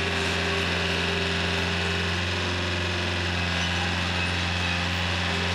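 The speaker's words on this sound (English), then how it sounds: "That's a little remote control tractor." Small remote control tractor running nearby: a steady, continuous motor drone with a strong low hum and an even, unchanging level throughout.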